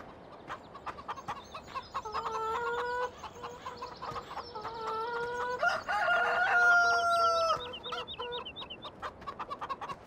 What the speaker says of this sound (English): Go look at our chickens over here.